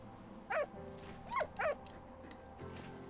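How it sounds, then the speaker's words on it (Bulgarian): Dog barks from the video game Valiant Hearts, three short yelping barks in quick succession over a low steady game soundtrack hum, fairly close and clear, with no talking. "Йей, най-якото куче на света."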